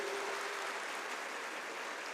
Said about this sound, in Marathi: एकदा डबल टाळ्या होत्या थोरात साहेबांसाठी.